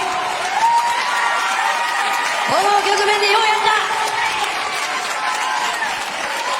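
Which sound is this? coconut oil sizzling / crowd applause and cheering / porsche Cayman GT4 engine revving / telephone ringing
crowd applause and cheering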